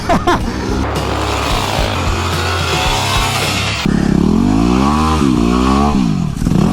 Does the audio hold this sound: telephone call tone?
no